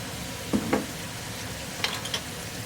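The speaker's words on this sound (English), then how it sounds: "So stir the tofu." Tofu being stirred in mapo tofu sauce in a pan: a few soft scrapes and wet dabs close by over a low background sizzle, two strokes early and a couple more later, with no voices.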